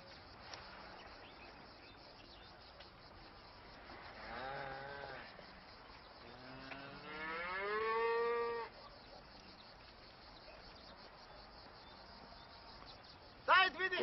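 A cow moos once, a drawn-out low call that rises and falls, faint amid quiet background hiss, with people talking nearby.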